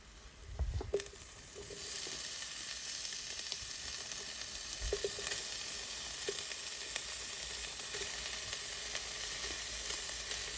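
Sausages frying in their own grease in a pan while cooking at an off-grid home, a steady close sizzle with a few soft knocks and stirring clinks early on, no talking.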